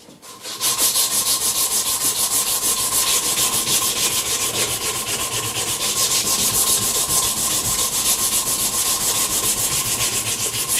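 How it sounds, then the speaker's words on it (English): A knife handle being sanded with sandpaper during handle shaping: steady, close, rhythmic back-and-forth rasping strokes that run continuously for about ten seconds, with no talk. "More new sandpaper, sorry."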